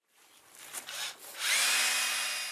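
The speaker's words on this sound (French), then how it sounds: "Elle consiste à percer un trou dans le tronc de la vigne dès que les symptômes foliaires apparaissent" A power drill bores into the wooden trunk of a grapevine, whining up in short bursts before settling into a steady, loud grinding hum with no voices.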